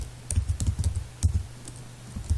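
Keys tapped on a computer keyboard while entering a project name, a quick irregular run of close, crisp clicks with a brief pause midway, no talking.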